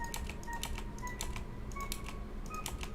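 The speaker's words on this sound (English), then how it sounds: "So I'm just clicking on these notes and pressing backspace to get rid of them." Mouse clicks and backspace key presses on a computer while editing notes in a music app, a quick irregular patter of crisp taps, close and fairly quiet, with no talking.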